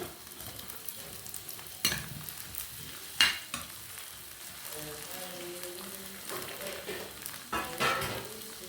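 Garlic, ginger and green chili fry in a pan, giving a soft, continuous sizzle broken by scattered louder clatters of stirring and spoon contact, with no one speaking over it.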